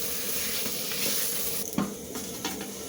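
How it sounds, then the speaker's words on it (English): Capsicum curry sizzling as it simmers in a pan for a chicken curry, a steady close hiss and crackle with a few brief stirring knocks near the end. "Stir and let it simmer for 1 minute."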